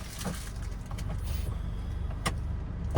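A car creeping slowly forward during a beginner driving lesson, a low steady engine hum inside the cabin with a few faint clicks and thumps, ending in a sharp knock.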